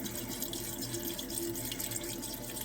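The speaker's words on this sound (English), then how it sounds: "Distilled water, always distilled water." Distilled water poured steadily from a container for a nitric acid boil when refining sterling silver, a continuous close splashing stream with no speech.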